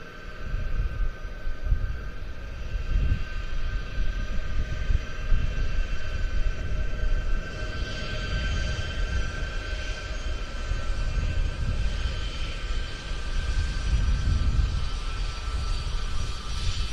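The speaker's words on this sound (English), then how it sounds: "We've still got two C-17s still to clear, and this is one of them." A Boeing C-17 military transport jet of NATO's heavy airlift wing, based at Papa in Hungary, departs the RIAT airshow with a loud, sustained engine roar that swells and holds throughout.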